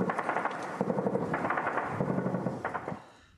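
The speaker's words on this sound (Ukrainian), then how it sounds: "Окупанти відкривають бентежний вогонь з піхотної зброї." Bursts of small-arms and machine-gun fire from infantry weapons near a frontline trench position outside Avdiivka, rapid rattling volleys repeating at close to mid range, heard alone and then tapering off.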